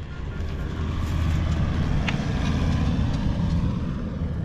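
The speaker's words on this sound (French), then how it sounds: "Désolé pour le bruit, il y a une voiture qui est passée." A car passes on a road near a metal-detecting site outdoors, a loud low rumble that swells and holds steady, filling the scene without any talk.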